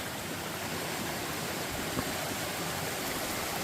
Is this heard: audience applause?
no